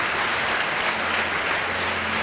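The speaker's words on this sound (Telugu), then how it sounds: "గట్టిగా చప్పట్లు కొడదాం." A dense, steady roar of loud applause from a congregation during a church service, continuous throughout with no pauses or voices standing out.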